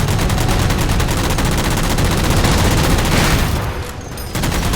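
Sustained gunfire in Halo 4 is aimed at jammers, with rapid overlapping shots and bursts forming a loud, continuous barrage that thins slightly near the end.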